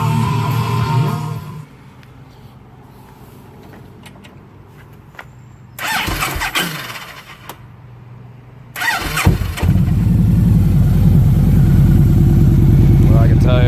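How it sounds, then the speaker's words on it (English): A Victory Magnum motorcycle fitted with a Lloydz exhaust cold-starts after cranking, then settles into a loud, steady idle close by, with a shorter burst of engine noise before it fully catches. "fire it up, make sure I don't have an exhaust leak somewhere before I assemble it back"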